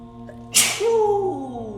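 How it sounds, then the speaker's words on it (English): A single sharp, loud human sneeze bursts out after a short quiet intake, followed by a lingering voiced exhale, indoors during a painting session. "Good sneeze."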